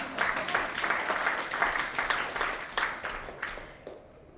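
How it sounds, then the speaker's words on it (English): Applause from a church congregation during a morning service, a dense patter of many hands that holds steady for several seconds, then thins out with a few scattered claps near the end. "yes, applaud for her."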